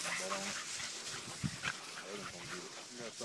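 A dog barks and whimpers in short bursts during a rabbit chase, close by and mixed with people talking.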